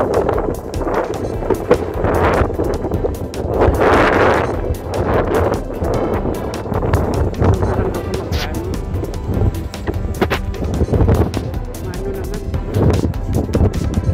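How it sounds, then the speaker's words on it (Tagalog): Wind buffets and rumbles against the microphone in uneven gusts in a garden while a person picking olives talks over it. "Mahangin pa."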